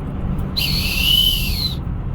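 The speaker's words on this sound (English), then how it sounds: "Crappy whistle." A single shrill whistle blast, held for just over a second, loud and close over a low background hum.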